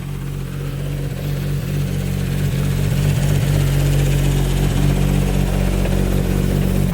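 A rebuilt Nissan Skyline 400R sits warming up at idle, its engine giving a steady, close, throbbing hum with a slight swell in level partway through and no talking over it.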